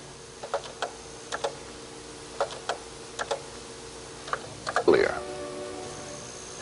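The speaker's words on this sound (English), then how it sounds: "enter the name of the new task from the keyboard" Sparse clicking keystrokes on an Apple Lisa computer keyboard, scattered quietly through the span, with a brief louder mechanical burst near the end.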